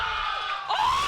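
Crowd at a Splatoon 3 tournament erupting in cheers and whoops after an upset, a dense roar of many voices with rising yells, loud and sustained throughout.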